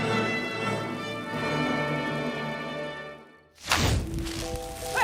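Tudor-style fireworks go off in a sudden loud, crackling burst that cuts in after a passage of music and then sustains a dense rushing hiss.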